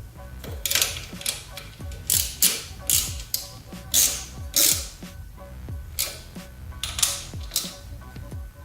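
A hand ratchet clicks in repeated bursts while tightening the fuel injector bolts on a 1990-93 Mazda Miata, with sharp, close pawl ticks and short pauses between strokes.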